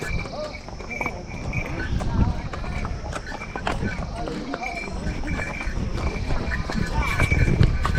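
Horse hooves clip-clop along a trail in Pahalgam valley amid outdoor ambience and insect chirps, with a person talking over the steady footfalls.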